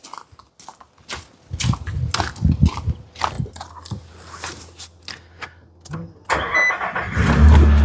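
A car starter cranks in short bursts and then an engine catches and idles steadily, close by, during a battery cranking load test with a handheld tester, with no talking.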